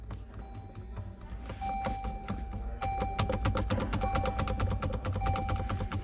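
A loose handbrake lever in a 2016/17 Toyota SW4 is worked back and forth, producing a quick run of dry, rattling clicks and knocks that grows busier and denser.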